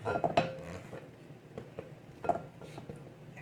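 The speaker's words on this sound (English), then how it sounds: "I have my roasted red peppers. Remember that I gave a little chop to. Let me add that in." Chopped roasted red peppers dropping into a bowl with beans for Mediterranean lettuce wraps, with a few light clinks of a utensil against the dish, close and fairly soft.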